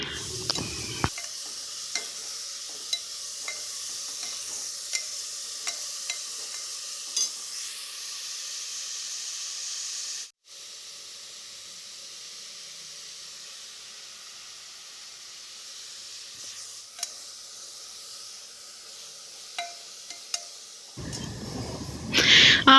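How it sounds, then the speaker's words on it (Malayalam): Onions sautéing with salt in a pan for mutton curry give a steady, close sizzle and hiss. Faint stirring clicks sound now and then, there is a brief break about halfway, and a louder clatter comes near the end. "അപ്പോൾ ഇതിലേക്ക് ഇനി ഉപ്പും കൂടി നമുക്ക് ഇട്ട് കൊടുത്തിട്ട് വേണം വഴറ്റാൻ വെക്കാൻ."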